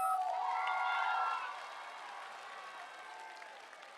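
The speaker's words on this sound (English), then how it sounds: "Give yourselves a round of applause." High school graduation ceremony crowd applauding, loud steady clapping with some cheering at first that eases into a softer, sustained patter of hands.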